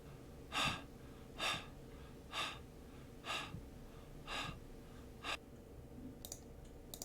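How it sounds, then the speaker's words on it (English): A heavy-breathing player sound effect in a Unity game project plays as six evenly spaced, sharp breaths, each a short airy burst, faint and looping, ending with a few light clicks. "heavy breathing shortened"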